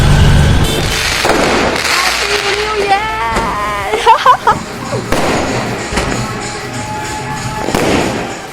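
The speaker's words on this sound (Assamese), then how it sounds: "31 ডিচেম্বৰৰ দিনাখন আৰু ৰাতি কেনেকৈনো মানে ফটকা চটকা ফুটোৱা হৈছিল আমাৰ ওচৰত" Firecrackers pop and burst repeatedly in a loud outdoor night scene on New Year's Eve, with whistling and crowd voices mixed among the bangs.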